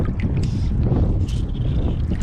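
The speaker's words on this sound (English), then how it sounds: "Super windy right now." Strong wind buffets the microphone beside a river during fly fishing, a continuous loud low rumble with gusty swells and faint hiss of moving water, no voices.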